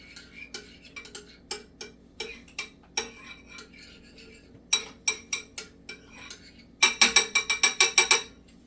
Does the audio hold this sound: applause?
no